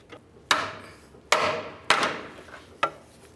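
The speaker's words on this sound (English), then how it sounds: "I'm just going to go ahead and use a pry bar and a hammer, bonk it off of there" Four sharp metallic bangs from a hammer driving a pry bar to knock a boot clamp off the inner tie rod of a 1999-2003 Toyota Solara, spaced roughly a second apart, each with a short ringing decay, no talk.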